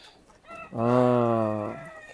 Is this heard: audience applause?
no